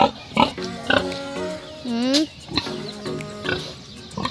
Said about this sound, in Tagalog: Dia si Jay baboy guys